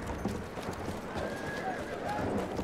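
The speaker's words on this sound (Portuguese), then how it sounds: "Tô ouvindo barulho de cavalo." A horse in Battlefield 1 gallops with rapid clip-clopping hooves and lets out a whinny, mixed with game ambience and a voice talking over it.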